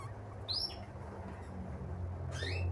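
Two brief, high chirps from a male Belgian Bossu canary ring out, one early and one near the end, over a low steady background hum.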